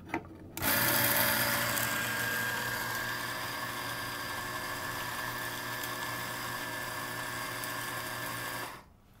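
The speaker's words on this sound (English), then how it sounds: "let's go ahead and choose our 2-cup setting and just grind as you normally would" A Eureka Atom electric coffee grinder runs on a two-cup setting, starting abruptly into a loud steady whirring grind that holds for about eight seconds before cutting off.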